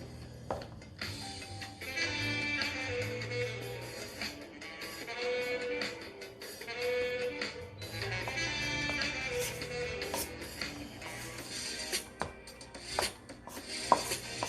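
A spoon scrapes and stirs homemade cloud dough mixed with lotion in a bowl, giving repeated gritty rubbing strokes in a steady back-and-forth rhythm, close and fairly quiet, with a faint musical bed underneath.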